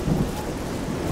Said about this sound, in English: This is... crush your soul and your will, rain.